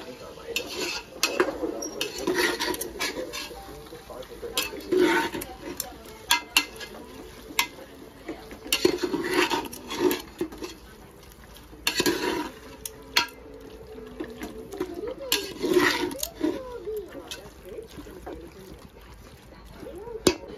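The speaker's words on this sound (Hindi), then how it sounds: "आणि आता हे सगळं आपण ढवळूया." Chicken biryani mixture being stirred in a pressure cooker, with repeated scraping and clinking of a spoon against the metal pot in an uneven rhythm, close and fairly loud, with a voice talking intermittently over it.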